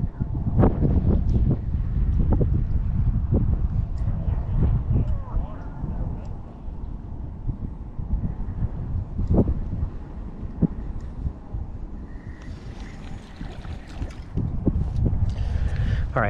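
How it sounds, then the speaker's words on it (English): Strong wind on a beach at Buxton, Cape Hatteras, while surf fishing: loud, continuous buffeting rumble across the mic with gusts and occasional knocks, and someone talking over it. "That wind is really bad."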